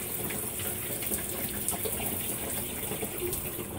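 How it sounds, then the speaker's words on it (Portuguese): A Consul 16 kg washing machine loaded with towels fills with water, a steady, close rushing and splashing of water flowing into the drum, with no talking. "Ela vai jogando água, centrifugando, jogando água e centrifugando"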